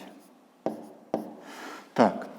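A pen writes on paper during a fifth-grade long-division exercise. Three distinct scratchy strokes sound close and clear over a quiet background, with the last one the loudest.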